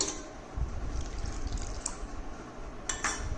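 Water poured into a blender jar while making carrot juice, a steady soft splashing fill that runs throughout with a few light clinks near the end, close and with no voices.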